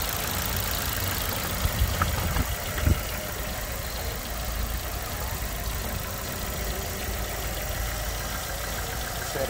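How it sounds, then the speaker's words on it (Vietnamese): A 2015 car with a 1.5-litre engine idling smoothly, a steady even hum with no misses, heard alone with a couple of faint knocks or clicks early on. "Máy nổ rất êm, nghe tiếng rất hay luôn"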